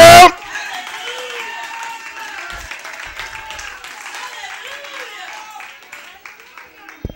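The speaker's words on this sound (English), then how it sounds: "clap your hand and praise him" A church congregation claps along during worship, a continuous bed of many hands clapping at a moderate distance with voices singing over it after a brief loud burst at the start.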